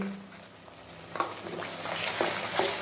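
Masala paste with Kitchen King masala sautéing in oil for potato curry, a quiet continuous sizzle with a few light scraping stirs.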